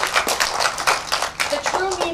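Applause at an elementary school event at Bell Gardens Library honoring teachers Mr. and Mrs. Salas Ortiz: a short burst of scattered hand clapping from a nearby crowd, mixed with faint voices.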